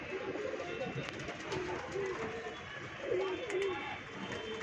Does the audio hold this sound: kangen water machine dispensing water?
no